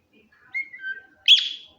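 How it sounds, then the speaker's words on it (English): A small baby bird found on a street gives a few thin chirps: a soft drawn-out whistle, then one sharper, brighter call, close and alone in quiet surroundings. "I just found this little bird."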